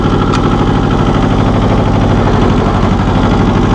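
A 1984 John Deere 650 compact tractor engine runs loud and close, a steady, even diesel chug with a constant rhythmic throb and no pauses.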